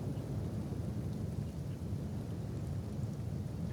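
Steady, dense rain with a low rumble of thunder in the Kenshi video game, a continuous wash of sound with no voices.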